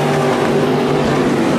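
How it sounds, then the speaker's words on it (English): Dirt track race cars roaring into turn one at Bakersfield Speedway on a heavy track, a loud continuous engine drone with broad rumbling noise and no voices. "I'm watching these cars going into turn number one"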